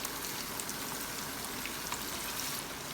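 Onions and garlic frying in a pan for a South Indian turkey berry kuzhambu, giving a steady soft crackling sizzle without pauses and at low volume.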